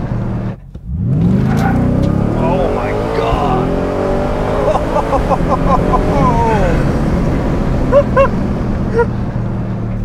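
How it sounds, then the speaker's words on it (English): A Ford Raptor R truck with a V8 launches hard from a standstill, its engine roar rising loud and close over several seconds as excited voices talk over it. "And let's do a quick launch."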